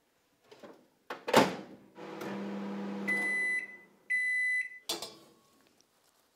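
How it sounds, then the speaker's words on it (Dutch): A microwave oven heats socks filled with rice: clicks and a door thump, then the steady hum of the oven running, followed by two sets of beeps and a final clunk of the door, nearby in a quiet room. "En die bolletjes verwarm je in de magnetron."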